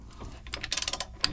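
A ratchet wrench with a 22 mm socket loosening shock absorber bolts on a Brinkley RV, a quick burst of several sharp clicks close up, followed by a short thud.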